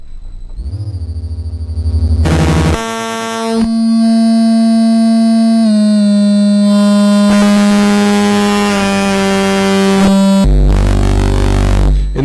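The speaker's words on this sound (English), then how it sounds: "So that's what phase distortion sounds like." A Moffenzeef Stargazer synthesizer plays a phase distortion algorithm, giving loud, buzzy, harmonically rich tones that switch pitch and timbre in abrupt steps, with sweeping, chirping changes between held notes.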